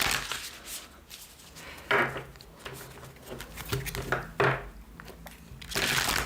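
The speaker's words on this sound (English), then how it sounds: "Let me just give them a shuffle." A deck of tarot cards being shuffled by hand, giving irregular papery riffles and soft slaps in several short bursts with quiet gaps between them, close and alone.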